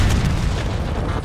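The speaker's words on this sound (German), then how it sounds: "Also das mit den explodierenden Fässern mag ich." Exploding barrels in the Call of Duty: Black Ops 6 video game, a loud dense rumbling boom with crackling debris that fills the whole short moment without pause.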